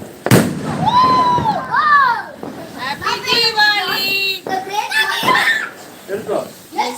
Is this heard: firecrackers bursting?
yes